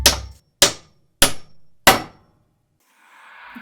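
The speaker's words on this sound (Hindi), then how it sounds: "मैंने एक हथौड़ा लिया और उस ताले को तोड़ने लगी।" A hammer breaking a lock in a horror audio story: four loud, sharp metallic blows evenly spaced about half a second apart, each ringing briefly, followed by a faint hiss.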